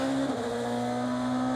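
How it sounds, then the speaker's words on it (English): DTM race car crossing the start-finish line at the Lausitzring, a loud steady high-pitched engine drone held at high revs, close and continuous with no speech. "René Rast makes his way onto the start-finish line, goes underneath the commentary box and over the line"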